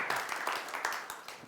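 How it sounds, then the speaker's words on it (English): A small audience clapping at a body language show, a short, fairly faint patter of claps with uneven rhythm. "Give them a round of applause for coming up on stage."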